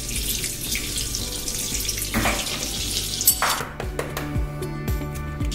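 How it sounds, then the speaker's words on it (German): Chicken pieces sizzle steadily on an OptiGrill, giving a continuous loud hiss with a few scattered clinks and taps throughout. "Und jetzt brutzeln die hier schon ordentlich"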